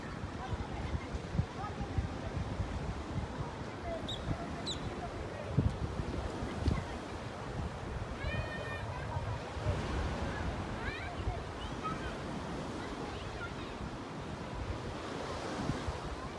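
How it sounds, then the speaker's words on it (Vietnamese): Ocean waves wash and break on a beach in a continuous surging roar, with wind buffeting the microphone and faint voices talking now and then underneath. "Tiếng sóng vỗ."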